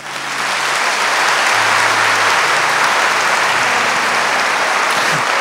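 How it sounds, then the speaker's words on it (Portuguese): A church congregation bursts into applause for fathers during a sermon, the clapping rising quickly and then holding as a dense, loud, even roar of many hands for about five seconds. "Vamos aplaudir os pais?"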